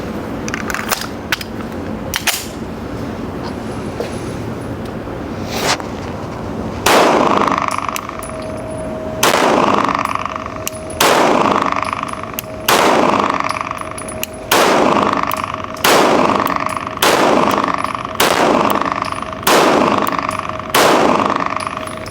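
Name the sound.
CZ pistols being fired at a range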